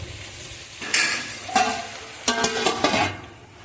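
Boiled eggs are fried and stirred for egg biryani, with a metal utensil clinking and scraping against the pan in a few distinct strokes over a soft, low sizzle. Everything sounds close, and nobody speaks.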